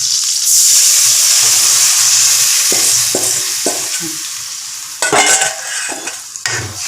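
Coconut milk mixed with cumin is poured into a pot and stirred while cooking fish sothi, a steady sizzling pour giving way to scraping stirs close by, with no talk.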